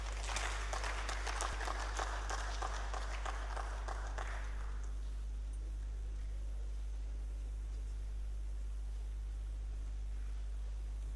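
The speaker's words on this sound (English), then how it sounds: "A warm round of applause for him," Conference audience applauding as Dr. Sunil, a country director, is welcomed to give a goodwill message; dense clapping for about four seconds, then fading into room quiet with a steady low hum.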